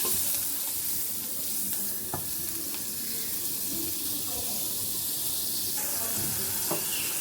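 Chopped onion and green chili fry in butter in a pan, a steady close sizzle with occasional utensil taps and scrapes throughout.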